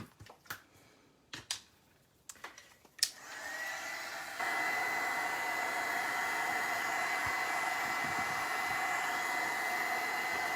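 A hair dryer is switched on to dry paint on a mixed-media winter décor piece, starting after a few small taps and then running as a steady, fairly loud whoosh that steps up in strength and holds to the end.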